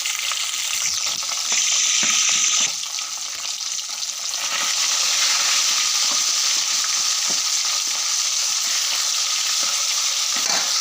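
Steady, loud sizzling of fish seasoned with salt and turmeric frying in hot oil, a continuous crackling hiss throughout with occasional sharper pops.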